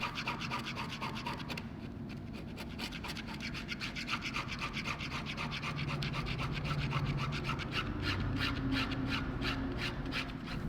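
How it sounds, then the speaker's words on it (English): A dull blade scrapes adhesive off a canvas in a steady, continuous raspy rubbing with fast repeated strokes, close and moderately loud, with no voices. "Gliding over the surface with a dull blade ensures that I'm picking up just the adhesive and not any of the canvas."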